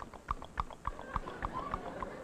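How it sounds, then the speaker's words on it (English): Horses of a pioneer wagon train clop along in a steady rhythm in a drama sound effect, about eight distinct hoof strikes, clear and fairly close. "Get those horses in line there!"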